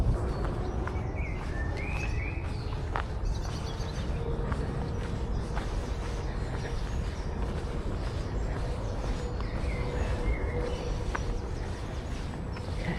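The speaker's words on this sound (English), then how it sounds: "it's reasonably quiet, apart from the birds in the trees and all those kind of things" Birds sing and chirp in the trees of a quiet summer garden at Kew Gardens, with scattered faint calls over steady outdoor background noise throughout.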